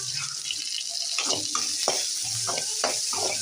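Small onions and curry leaves sauté in oil for sambar, a soft constant sizzle broken by several quick scraping strokes of a spoon stirring through the pan.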